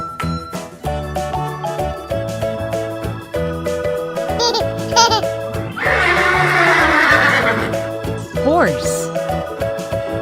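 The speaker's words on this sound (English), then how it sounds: "Horse." A horse neigh from a wooden toy animal sound: a bright whinny over steady background music, then a brief squeal near the end.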